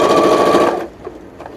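A sewing machine stitches a fabric glasses case in a loud, steady mechanical whir that stops abruptly partway through, leaving faint quieter handling sounds.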